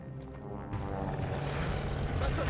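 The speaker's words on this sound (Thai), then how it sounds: "ไอ้สตูก้าคันที่มันบินขึ้นไปตอนแรกใช่ไหม" A Stuka dive bomber drones steadily in the World War II shooter Call of Duty: Vanguard, a continuous engine roar rising in the background amid busy game noise and faint voices.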